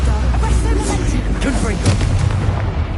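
Incendio fire spell cast in Hogwarts video game: a loud, dense roaring whoosh of flame with booming bursts, sustained at steady volume for the full three seconds.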